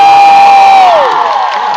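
A short burst of loud crowd cheering and whooping from an audience at a movie premiere, a dense near wash of voices fading slightly over under two seconds, mixed with a sweeping tone.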